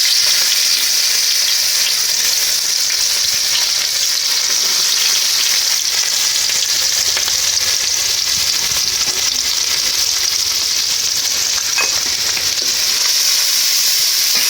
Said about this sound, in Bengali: মাছ ভাজা তেলে আর একটু তেল দিয়ে দিলাম পেঁয়াজ